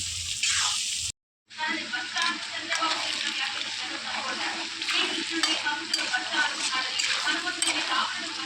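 Tomato pickle being stirred in a hot pan, a continuous bubbling sizzle with scraping stirs, interrupted by a brief gap near the start.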